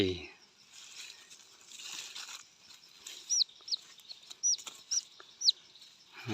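Several short, sharp clucks and chirps from chickens come through, scattered over a steady outdoor hiss with some faint rustling.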